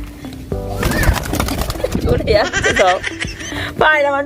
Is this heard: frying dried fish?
no